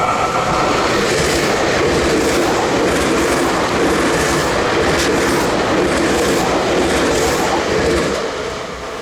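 A train rumbles past up close in Japan, loud and steady, with a broad roar and faint rhythmic clatter of wheels over the track throughout.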